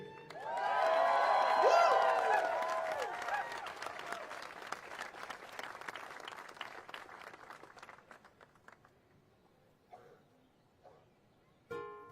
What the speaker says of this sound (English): When you make applause for the keiki, you gotta do it really big.